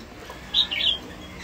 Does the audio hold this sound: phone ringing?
no